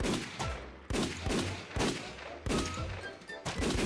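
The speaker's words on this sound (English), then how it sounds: "The amount of gunshots going off is killing me." Rapid bursts of video game gunfire at a firing range, several loud volleys about a second apart with sharp cracks and echoing tails.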